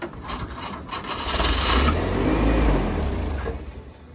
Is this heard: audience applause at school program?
no